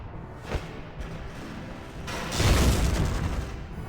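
Grenade explosion in Valkyria Chronicles: a small thump early on, then a loud, broad blast swelling midway and rumbling out over the remaining seconds.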